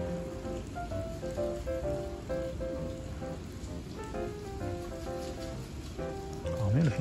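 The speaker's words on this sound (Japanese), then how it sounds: "雨音が非常に癒されます。" Rain falls steadily on temple grounds, a dense, even patter with scattered nearer drips, soft and continuous throughout, with faint other sounds behind it.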